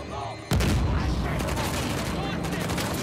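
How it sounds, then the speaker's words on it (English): A grenade goes off with a sudden heavy boom in Uncharted: The Lost Legacy, followed by a dense rolling rumble and scattered gunfire, loud and close, with someone talking around it. "Now how about a little grenade over there?"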